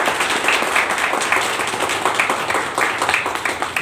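An audience at a business plan meeting claps together, dense steady applause that is loud and sustained throughout, with no clear voices over it.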